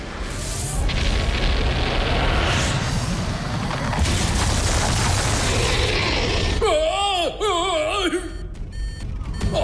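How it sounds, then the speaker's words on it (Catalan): A factory in a cartoon explodes with a loud, sustained rumble and blasts, followed by warbling electronic effects. Speech is heard over the din. "La fàbrica està a punt d'esclatar!"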